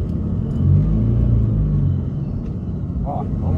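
A Ford Cargo 2422 truck with a two-speed reduction differential downshifting, its engine a loud, deep, steady rumble close by, with a brief voice near the end.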